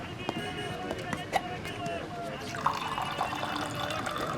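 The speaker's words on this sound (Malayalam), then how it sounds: "സാറേ കുറച്ച് വെള്ളം കുടിച്ചോട്ടെ." Someone drinks water in a film scene, with soft liquid splashes and drips under a voice, set against quiet room sound.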